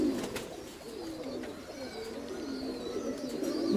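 Domestic pigeons coo in a low, rolling murmur through the whole stretch, several birds overlapping close by with steady throaty burbles and faint chirps above, no voices.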